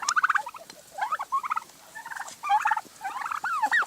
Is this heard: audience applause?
no